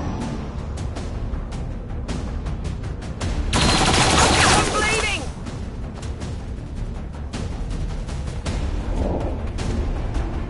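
Rapid gunfire in XCOM 2, a dense fusillade of close shots with a louder sustained burst in the middle and scattered shots after, all under a steady noisy game background.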